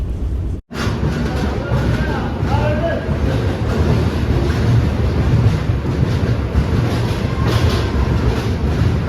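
Kerala Superfast Express train rolling into Trivandrum railway station, heard from inside a second-class AC coach as a loud, continuous rumble and clatter after a brief dropout near the start, with indistinct voices underneath.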